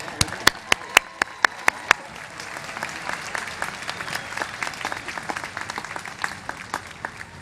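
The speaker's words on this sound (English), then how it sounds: "Another round of applause, please." Commencement ceremony crowd applauding steadily for several seconds, with a few sharp, close individual claps standing out early before settling into a dense, even wash of clapping.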